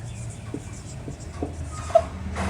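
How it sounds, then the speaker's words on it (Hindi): Pen writing on a surface during a classroom-style lesson, a few faint scratchy strokes spaced apart under quiet room noise. "मैं इस पेन से लिखता हूँ"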